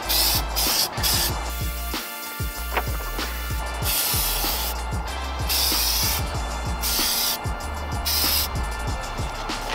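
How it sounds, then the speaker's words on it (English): Repeated hissing bursts of an aerosol can spraying Plasti Dip coating onto car wheels, several long sprays separated by brief pauses, close up with clattering handling noises between. "I'm gonna spray this, get a tiny bit of it out, and then hit that second coat."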